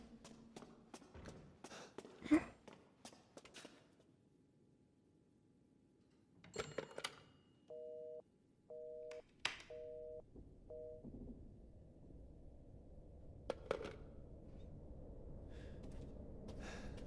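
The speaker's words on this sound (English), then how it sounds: "And then the phone goes off." A telephone rings in the Resident Evil Village horror video game, four short evenly spaced electronic ring bursts in a quiet, dark scene, preceded and followed by faint scattered knocks and creaks.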